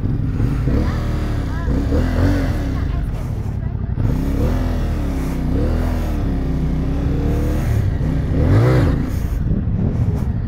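A Thrike Xcape 1200cc motorcycle pulling away in first gear, its engine note rising and falling in close, loud revving surges, with someone speaking over it.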